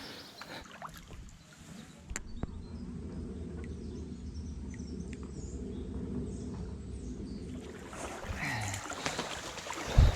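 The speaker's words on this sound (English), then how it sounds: "this boat coming down the canal can pass by" A canal longboat's engine chugs low and steady as it passes close by on a canal, rising then fading away, with faint insects and birds in the background.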